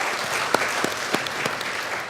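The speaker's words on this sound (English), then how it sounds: "let's give her another round of applause" A conference audience claps steadily through a round of applause, dense overlapping hand claps with a few sharper individual claps standing out, fairly loud and continuous without speech.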